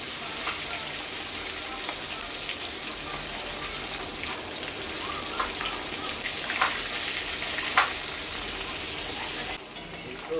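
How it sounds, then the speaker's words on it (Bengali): Koi fish frying in hot mustard oil in a kadai, giving a steady, close, crackling sizzle with bursts of spitting oil throughout. "তেলটা গরম হয়ে গেলে এক এক করে কই মাছগুলো দিয়ে দেব"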